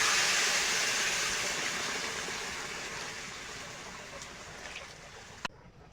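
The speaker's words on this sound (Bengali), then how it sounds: "এবার দিয়ে দেবো গরম জল" Hot water hisses and rushes into a pan of pointed gourd and prawns, a loud, broad pour that gradually eases off, ending with a sharp clink.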